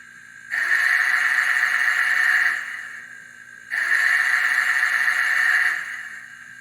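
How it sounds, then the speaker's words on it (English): The sound-equipped Athearn N scale Big Boy 4014 model locomotive gives two long, held steam whistle blasts of about two seconds each, loud, sustained and close, separated by a short pause. "F2 is the whistle. Long, and you can hold it."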